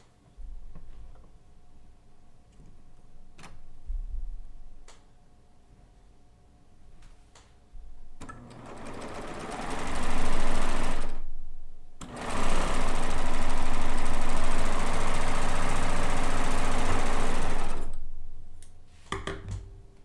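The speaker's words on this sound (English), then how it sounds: "Not throw them, but sew them together." A sewing machine joins quilt border strips, first quiet handling and faint clicks, then loud, close whirring runs of a few seconds and about six seconds, separated by a brief pause, with no talking.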